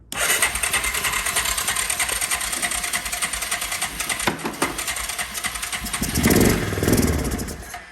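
A Yamaha Kodiak 400 ATV engine cranks and catches, settling into a loud, rattly, fast-firing run close by, with a brief surge toward the end.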